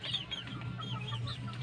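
Hens cluck near at hand in a run of short, repeated calls over a steady low background hum.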